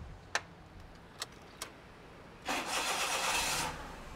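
A car engine is restarted after its intake hose is pushed back on: a few sharp clicks, then a loud roaring burst of about a second that settles lower.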